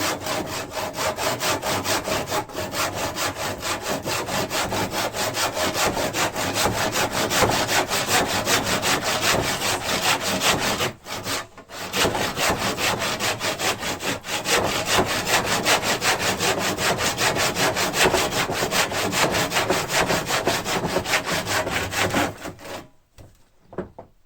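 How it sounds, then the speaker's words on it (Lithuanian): Hand saw cutting crosswise through wood while building garage walls, a steady rapid back-and-forth rasping of even strokes lasting nearly the whole time, close and loud, with one brief pause partway and the sawing stopping at the end. "Karačiai pjaunam."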